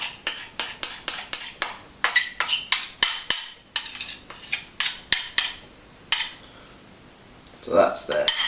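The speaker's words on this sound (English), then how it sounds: "So we're going to place this all into the large mixing bowl." Rapid metallic clinks and scrapes as brownie ingredients are worked into a large mixing bowl, a steady series of sharp close utensil strikes with a short pause, then a brief voice near the end.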